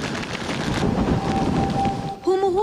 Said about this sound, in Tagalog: Humuhuni pa ang hangin kasabay ng paghampas ng mga dambuhalang alon sa baybayin